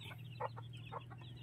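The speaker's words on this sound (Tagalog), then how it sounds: "So ayan yung sisiw ng ating puti." Young chicks of a white hen cheep in short, soft bursts over a steady low hum, several faint chirps spaced unevenly with no voices.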